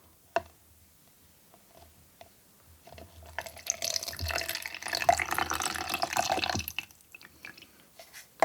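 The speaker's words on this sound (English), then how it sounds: "Then we're going to be pouring this water back into this jug." Water is poured back into a jug while red onion pickle is being made. After a quiet start with a faint knock, a splashing, trickling pour builds and runs for several seconds, then tapers off.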